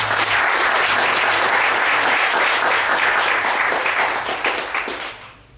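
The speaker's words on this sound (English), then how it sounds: "let's please give them a round of applause" Sustained applause from a large audience, steady and dense for several seconds before tapering off at the end.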